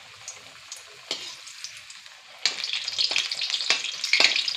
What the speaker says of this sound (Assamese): এইদৰে এনেকৈ ইয়াতে ভাজি দিলোঁ।